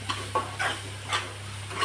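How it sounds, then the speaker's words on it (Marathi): Masala roasts in oil in a pan while a spoon stirs it, giving soft rhythmic scraping strokes over a faint sizzle and a low steady hum. "आता हे सर्व आपल्याला चांगलं तेल सुटेपर्यंत भाजून घ्यायचं आहे."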